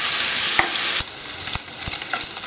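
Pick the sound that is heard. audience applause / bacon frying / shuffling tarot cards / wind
bacon frying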